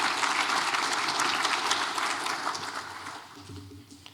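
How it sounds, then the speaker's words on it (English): An audience applauds the speakers at a transportation conference, a broad sustained round of clapping that gradually thins and fades toward the end. "Let's give another round of applause for all of them."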